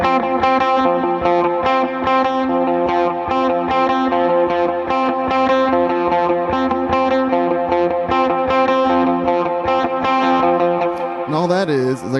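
An electric guitar run through effects plays a distorted, chorus-tinged riff from a song in a steady picked rhythm, loud and close, ending with a brief bending slide.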